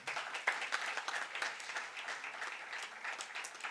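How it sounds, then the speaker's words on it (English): Applause from the audience at a university scholarship awards ceremony, a quiet, even spray of clapping heard from a distance throughout. "first of all, another round of applause for Mr. Stephen."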